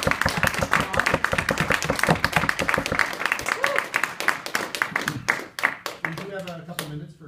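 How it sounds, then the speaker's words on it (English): Clapping from an audience after a student presentation at a conference, close and fairly loud with irregular sharp hand claps, thinning out toward the end as voices begin to talk. "Round of applause first."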